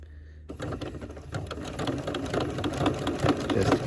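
A sewing machine stitches through a fabric-wrapped coiled rope bowl at the handle, set to a short stitch length. After a quiet start it kicks in as a steady, close mechanical whir with rhythmic needle clatter that grows slightly louder.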